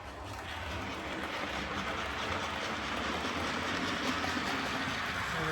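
An OO gauge model train runs along layout track, giving a steady, continuous rumbling clatter at moderate distance with no pauses.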